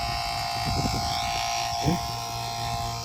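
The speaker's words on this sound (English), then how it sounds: "Got my vacuum pump hooked on." A vacuum pump hums and buzzes steadily at close range while evacuating mini split air conditioner lines, with a brief spoken word over the drone.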